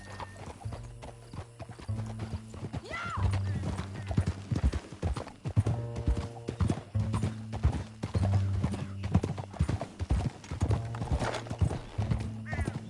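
Horse hooves galloping in Red Dead Redemption 2, a steady rhythmic clip-clop running throughout alongside a whinny and game music, with a voice speaking over parts of it.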